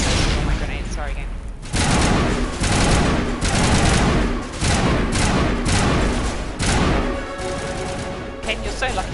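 A firefight in the video game Mass Effect, with a grenade blast and dense bursts of gunfire. Loud, rapid shots repeat in clusters over a continuous roar of combat.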